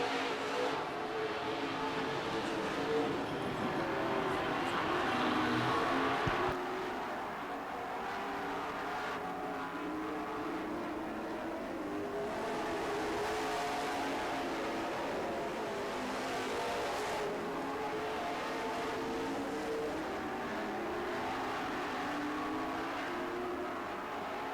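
Race cars circling a track during a race, a steady loud roar of engines holding throughout, swelling and fading slightly as cars pass, with no talk.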